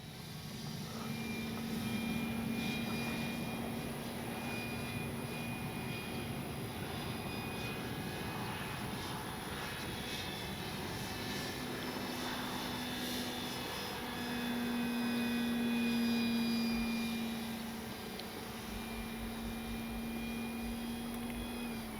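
A FLEX Aviator 40E electric RC plane performs flat turns, its steady motor whine droning continuously overhead with a mid-distance tone that swells and fades slightly as it passes.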